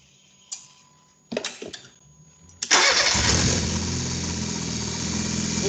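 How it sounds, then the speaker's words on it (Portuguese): A car engine cranks in short bursts, then catches and settles into a steady, loud idle close by, during a diagnostic test on its rotation sensor. "Vamos funcionar o motor para ver o que acontece aqui."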